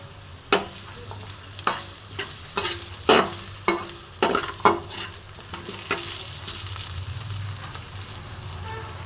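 Potatoes frying in oil with salt and turmeric, a steady sizzle broken by repeated spatula scrapes and clacks in an uneven rhythm, close and clear.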